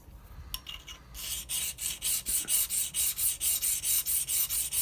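Obsidian arrowhead platform abraded on a 400 grit diamond plate: after a brief scrape, about a dozen steady, evenly paced back-and-forth rubbing strokes, close and gritty, with no talking.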